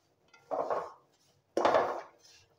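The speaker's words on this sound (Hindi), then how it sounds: "और इसको अब हम चम्मच चला के मुसलसल भून लेंगे।" A spoon scraping and stirring semolina as it roasts in a pan, two separate rubbing, scraping strokes at close range with a brief quiet gap between them, no talk.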